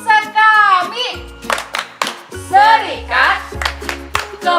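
Children doing a rhythmic group clap chant at a Catholic children's mission Sunday gathering in Medan, sharp claps in a steady pattern mixed with loud sung and spoken chant lines.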